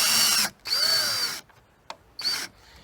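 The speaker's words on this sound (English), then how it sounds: "So we'll just tighten all those screws on." A power drill drives screws into an RV door lock in three short whining bursts, close and loud, each rising in pitch and separated by brief pauses and a small click.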